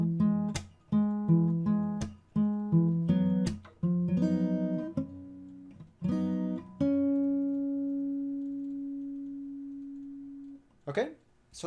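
Fingerstyle acoustic guitar plays the ending of a song arrangement: a run of cleanly plucked, ringing notes, then a final chord held and slowly fading, with one brief scrape at the very end.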